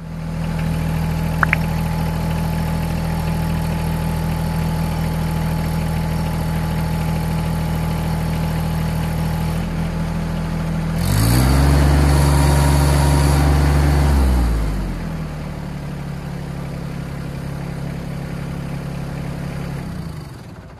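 An LS MT225S compact tractor's engine idles steadily during a lift capacity test, a constant low hum that rises into a louder, strained roar for a few seconds before settling back to idle.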